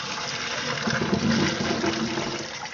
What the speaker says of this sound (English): So what I do is I put the colander in this way and pour it out.